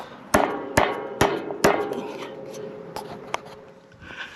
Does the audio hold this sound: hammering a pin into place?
yes